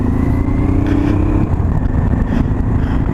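A 1989 Honda Transalp XL600V motorcycle rides along a dirt road, its engine droning steadily and close with a brief rise in revs midway, wind rumble mixed in.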